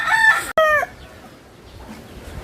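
A rooster crows loudly and close at a Filipino farmyard, two harmonic bursts broken by a brief gap and trailing off, followed by quiet ambience.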